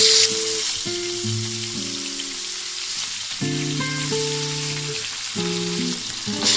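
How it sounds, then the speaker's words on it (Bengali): Bhangor fish fry in hot mustard oil in a pan, giving a steady close sizzle and crackle throughout, while a melodic tone plays alongside and no one speaks. "গরম হওয়ার পরে মাছগুলো দিয়ে আস্তে আস্তে দিয়ে ভেজে নেব"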